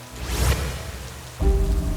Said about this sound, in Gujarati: ત્યાં જ વરસાદ વધુ વરસ્યો અને જંગલમાં પૂર આવવાની શરૂઆત થઈ ગઈ